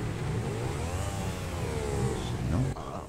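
Motorcycle engine in GTA 5 revving steadily at a mid pitch, a close, continuous drone that climbs and dips slightly, with game sounds mixing in near the end.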